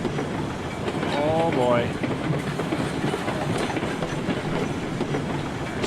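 In the Railroad Online video game, a Climax geared locomotive hauls loaded iron ore cars weighing 41,000 lbs uphill with a steady rumbling clatter and a brief metallic squeal, while someone speaks briefly over it.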